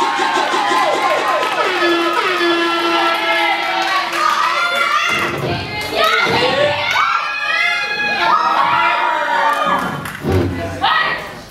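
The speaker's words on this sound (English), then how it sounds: "Everybody, make some noise for AJ and Christopher." A crowd at a live event cheers and shouts loudly, with high excited voices and whoops swelling and falling in waves, plus some thumps and claps.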